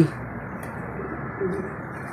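Racing pigeons in a loft give soft, low cooing over a steady background hiss, with a few faint bird sounds in the distance.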